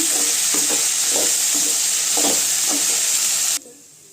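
Okra (ladies finger) frying in a pan sizzles loudly and steadily while a spoon stirs it in repeated scraping strokes, and the sizzle cuts off abruptly near the end.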